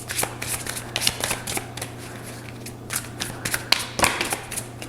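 Tarot cards being shuffled and handled at close range, with quick riffling bursts and soft slaps in an uneven rhythm, a faint low hum beneath.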